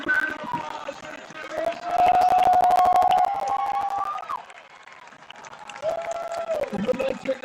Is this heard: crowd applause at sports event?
yes